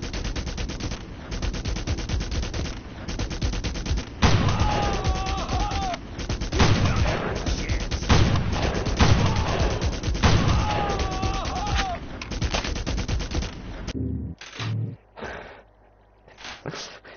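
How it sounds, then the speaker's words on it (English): Rapid gunfire from a sniper rifle in the video game Red Faction, with bursts of shots and crackling fire coming loud and close. The gunfire continues steadily before tapering into sparser, scattered shots at the end. "I need to pop their heads off with a sniper rifle"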